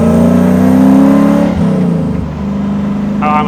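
A supercharged V8 drift truck revs hard, its engine note climbing then dropping through gear changes, loud and close with a steady roar and no talk.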